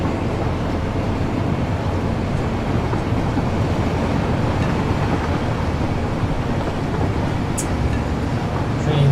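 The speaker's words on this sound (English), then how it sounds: "Train's still running this direction" A video-game train rolls along its track with a steady low rumble and hiss, continuous and moderately loud, with no break for the full stretch.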